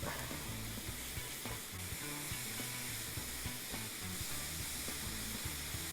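Vegetables seasoned with pepper sizzle steadily in a hot pan as they sweat, a constant crackling hiss with occasional louder pops, no voices.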